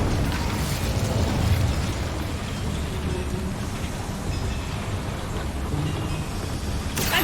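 Incendio fire spell from Hogwarts Legacy, a sustained roaring, crackling blaze of flame, loud and steady for several seconds with a rumbling low end and a sharp burst near the end.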